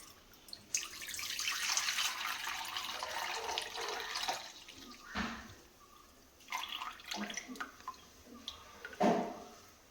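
Cooled jaggery syrup poured through a strainer in a home kitchen, a continuous close liquid stream and splash, broken by a few louder splashes and drips as the pouring stops and restarts.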